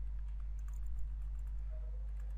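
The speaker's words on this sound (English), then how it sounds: "and then I'm just typing login" Soft, rapid key clicks of typing on a computer keyboard, faint and irregular over a steady low electrical hum, with no speech.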